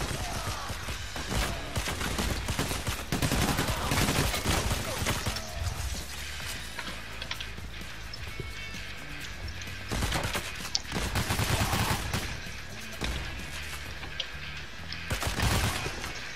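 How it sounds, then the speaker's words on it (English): Gunfire in Payday: The Heist during a poolside barbecue heist, dense automatic bursts and rattling shots packed throughout, loudest in heavy clusters early, around ten to twelve seconds and near the end, over constant game ambience. "Someone's shooting."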